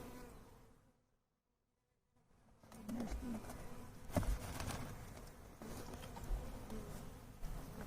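Honeybees buzzing steadily near a hive while nucs are installed, a dense insect hum close by that drops out briefly and then returns with soft handling noises.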